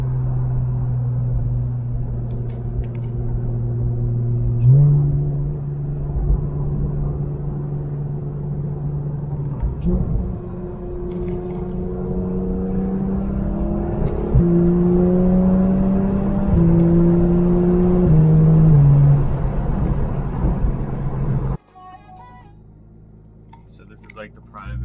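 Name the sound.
Porsche GT3 RS engine running and revving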